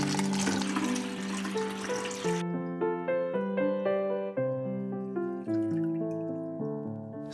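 Water splashes noisily into a large pitcher of crushed white lime paste for a few seconds, then stops abruptly as sustained melodic music carries on alone.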